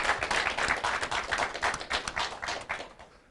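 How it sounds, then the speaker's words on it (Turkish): A studio audience on a Turkish New Year folk music show claps in a dense, brisk burst of applause that gradually thins and fades toward the end. "Doğu TV'nin starlarına kocaman alkış istiyorum ekran başındaki izleyicilerimizden."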